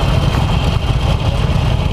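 The engine of a 2018 Harley-Davidson Forty-Eight Special motorcycle idles with a loud, close, lumpy low rumble and a slight rattle, pulsing irregularly over a short stretch.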